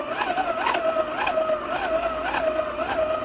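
A steady mechanical whine from a hand-cranked ZC25-4B megger clone insulation tester at 1,000 volts, pitch rising and falling in a regular cycle about twice a second, close and continuous.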